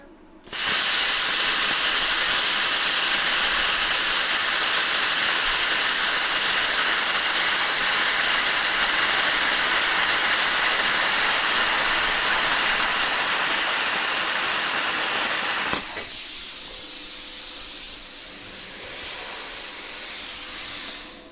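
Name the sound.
plasma cutter cutting 1/4 inch aluminum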